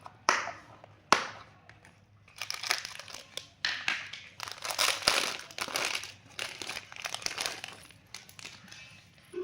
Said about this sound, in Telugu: నెక్స్ట్ మీకు ఈ జ్యువెలరీ సెట్ అయితే ఓపెన్ చేసి అయితే చూపిస్తాను.